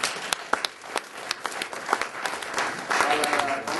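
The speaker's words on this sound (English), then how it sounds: "Let's give him a round of applause," Scattered applause from a small audience at a game development talk, with sharp individual claps over a soft crowd patter that swells slightly near the end, while faint voices murmur underneath.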